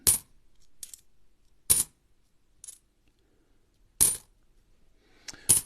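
Coins from a 20-cent coin roll dropping onto a hard surface, a series of sharp metallic clinks arriving singly and in small bursts with quiet gaps between, close and distinct.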